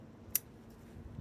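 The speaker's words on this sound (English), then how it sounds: "Got this root here that's growing funny angle, just going to cut that back." One sharp, quiet snip as scissors cut back a Chinese privet root during repotting, a single crisp click against a faint, still background.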